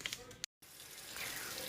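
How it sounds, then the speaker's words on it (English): Water runs from a tap and pours into a pot for mac and cheese in a home kitchen, a soft continuous gush with a brief cut partway through, faint and close. "you're just gonna add some water"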